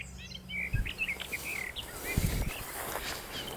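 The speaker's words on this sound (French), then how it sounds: "Là je suis à côté d'un véritable concert d'oiseaux." Many birds sing outdoors beside a small stream, high chirps and trills overlapping near the listener, with a couple of low rustling thumps from someone moving through brush.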